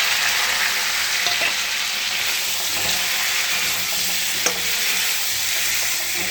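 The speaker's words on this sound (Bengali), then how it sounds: "ভালো করে কষিয়ে নেবো মশলাটা" Spices sizzle hard in a pan alongside fried potatoes, a continuous loud crackling hiss with occasional scrapes of stirring, and no one talking.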